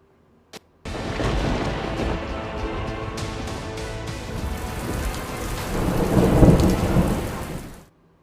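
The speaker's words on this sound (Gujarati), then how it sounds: "દક્ષિણ ગુજરાતમાં ધોધમાર વરસાદ થઈ રહ્યો છે" Heavy downpour with thunder in Gandevi, Navsari, south Gujarat: after a brief click, a loud, continuous roar of rain and rumbling sets in, swells toward the end, then cuts off.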